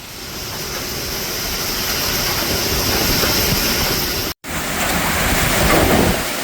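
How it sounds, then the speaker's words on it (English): Strong, steady roar of Tropical Cyclone Fina's wind in Darwin, Australia, buffeting the microphone, swelling into a heavier gust with a brief dropout midway. "This is probably the biggest gust I've seen since I've been out here."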